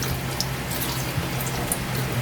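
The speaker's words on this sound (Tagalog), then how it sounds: "Tapos lagyan natin ng konting tubig kaili." A little water trickles steadily into a cooking pot of ginataang tolingan, a low continuous splashing pour, fairly quiet and near, with no voices.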